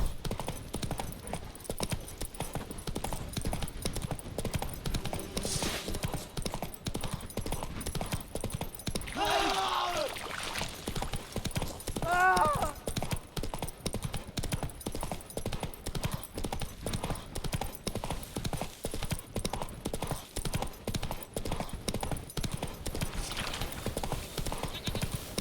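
Hooves of a horse trotting in The Witcher 3 video game clip-clop steadily and close, with a brief whinny midway over a dense bed of game ambience and music.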